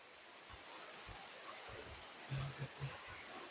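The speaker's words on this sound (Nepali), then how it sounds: "अनि यतातिर झरना बगिरहेछ तलतिर।" A waterfall flows below a Shiva cave temple in the middle of a forest, a faint, even, distant rush of water with a few soft low thumps.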